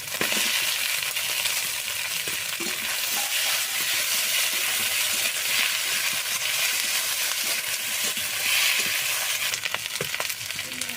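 A pan of spicy Bengali snail curry with pre-fried potatoes being mixed in gives a steady, close scraping stir over a constant broadband sizzle, with a few sharper clinks toward the end.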